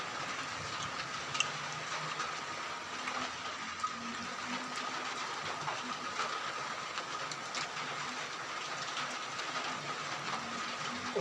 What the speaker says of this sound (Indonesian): Oh, hujannya.